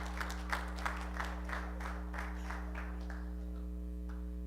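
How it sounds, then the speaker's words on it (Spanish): Audience applause at a church service, a steady patter of clapping with a few louder peaks early on, heard over a constant low electrical hum and fading gradually toward the end. "Un aplauso para el pastor, sabe de agricultura."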